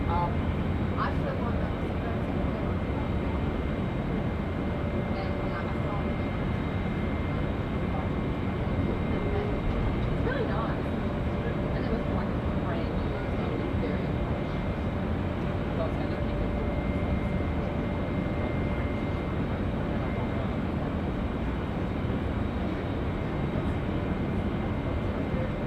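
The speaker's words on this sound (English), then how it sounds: "United 777 service. Yeah, starting to roll out now." A United Boeing 777 airliner rolling out at Auckland Airport, a steady loud engine roar that holds constant throughout, with people talking over it.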